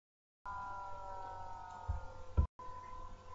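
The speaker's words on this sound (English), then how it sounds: "Did you hear that sound? That's the sound of my laptop." Loud laptop noise, a steady broadband hiss with a faint tonal whine that cuts in abruptly, carries a couple of brief thumps, drops out for a split second and then resumes.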